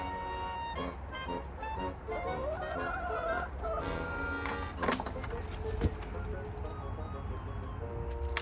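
Backyard hens cluck and murmur in a cold snap, several birds calling in short, overlapping bursts nearby, fairly quiet with a few sharper squawks and some background rustling.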